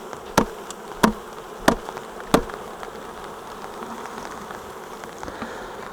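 Honeybees hum steadily while a split hive is assembled, and four sharp knocks of hive parts punctuate the first half before the buzzing carries on alone.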